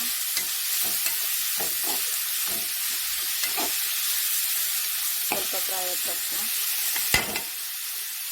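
Masala with coriander leaves frying in a pan for crab sukka, a bright continuous sizzle with scattered spatula taps and scrapes, close by.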